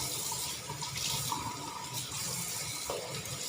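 Fresh herbs and greens for pork laab are rinsed under a running tap, a steady close stream of water splashing continuously throughout with no talking.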